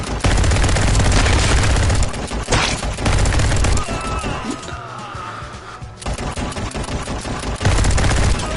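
Rapid, loud automatic gunfire from the video game Guns n Stories, dense bursts of shots hammering almost without pause, briefly thinning midway before the heavy fire resumes.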